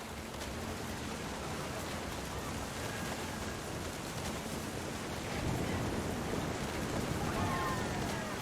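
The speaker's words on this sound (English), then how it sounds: "The thunder sounded much too close and full of angry power" Steady heavy rain with a low rumbling thunder swell in the game What Remains of Edith Finch, a dense broadband wash that grows louder and deeper near the end, with no voices.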